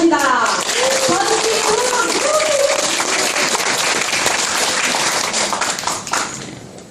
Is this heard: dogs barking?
no